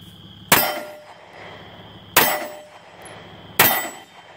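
Three sharp metallic clangs of bullets striking a steel target, spaced about one and a half seconds apart, each ringing briefly before fading, with no talk.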